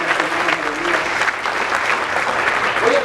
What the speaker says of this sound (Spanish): Denle ese aplauso fuerte a Cristo